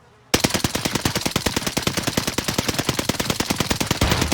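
Owen gun firing in the video game Warzone Pacific: one loud, close, continuous automatic burst of rapid, evenly spaced shots lasting about four seconds after a short silence.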